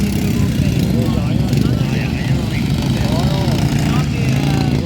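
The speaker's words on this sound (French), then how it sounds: "Juste une tondeuse" A lawn mower engine drones steadily nearby, loud and continuous, while people talk over it.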